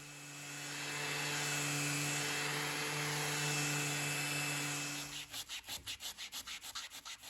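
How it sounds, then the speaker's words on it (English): A power sander whirs steadily against dense wood veneer on a mid-century bureau desk with a droning hum, then switches to rapid rhythmic hand-sanding strokes near the end. "it was dry enough to be sanded with the machine"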